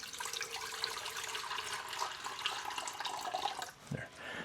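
Water poured into a pet's water bowl, a steady splashing stream that runs for several seconds before briefly dropping off and resuming, fairly close and moderately loud.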